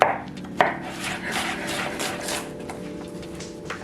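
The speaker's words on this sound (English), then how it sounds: "I will make sure the knife doesn't leave the table, so I can give an example of how you should cut" A chef's knife chops vegetables on a cutting board, two sharp knocks near the start followed by softer rubbing and slicing sounds, close and fairly quiet.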